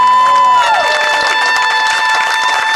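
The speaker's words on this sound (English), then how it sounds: "can I just please get a round of applause for these young people?" Outdoor crowd applause and cheering at a press conference in Foley Square, New York City, loud and sustained, with a sustained tone sliding downward early on and scattered voices in the mix.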